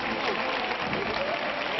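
A street crowd in Málaga applauds bearers carrying a procession float, with steady, distant clapping and murmuring under a narrowband, somewhat muffled recording.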